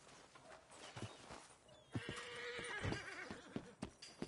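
A horse in Red Dead Redemption 2 whinnies loudly with a long, wavering neigh, preceded by scattered hoof clops and light movement sounds.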